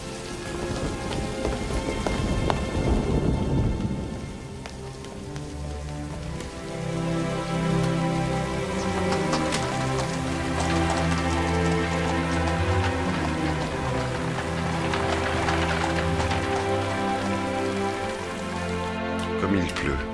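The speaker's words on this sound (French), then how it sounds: "Comme il pleut." Heavy rain pours down steadily and close, a dense wash over the whole stretch, with musical tones and swells playing underneath throughout.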